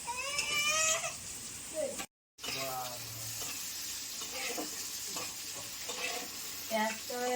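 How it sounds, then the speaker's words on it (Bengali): Potatoes frying in a pan give a steady, close sizzle and crackle, with voices and a whimpering, crying-like sound heard over the frying. "আলুগুলো খুব সুন্দর করে লাল লাল করে ভেজে নিয়েছি"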